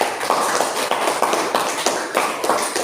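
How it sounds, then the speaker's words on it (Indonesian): Rhythmic hand clapping, a steady series of sharp claps at an even pace, fairly close and loud, with no talking. "Berikan tepuk tangannya saya."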